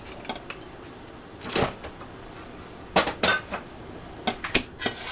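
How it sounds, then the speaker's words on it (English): A spoon stirs hibiscus flower jam mixture in a pot for homemade jam, giving scattered clinks and scrapes against the pot in short irregular bursts, fairly close. "Stir it all up."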